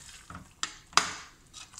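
A creamy pea dish stirred in a pot: a few soft scrapes and two sharper clinks of a utensil against the pot, close up and fairly loud, with no talking.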